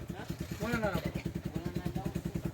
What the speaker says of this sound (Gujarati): એક મોટરસાયકલ વયું ગયું